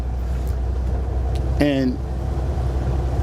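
A vintage Flxible Starliner bus cruising at 35 mph gives a steady low engine and road rumble, with a brief spoken word over it.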